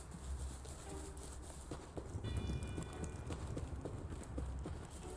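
A horse in the survival game Rust moves along with rapid, rhythmic clip-clop hoofbeats, fairly faint and steady, with little else heard.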